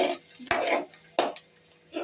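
Utensil stirring and scraping egg with onion, green chilli, carrot and capsicum in a pan for homemade egg noodles, a few sharp metallic clanks and scrapes separated by quieter pauses.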